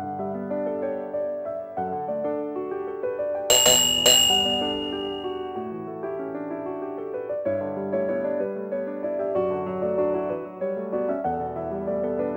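A bedside bell rings once in the Dreamcast video game Marginal, a bright metallic chime lasting about a second over steady, soft in-game background music, with no speech.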